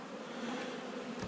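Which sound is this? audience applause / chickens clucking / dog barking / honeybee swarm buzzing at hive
honeybee swarm buzzing at hive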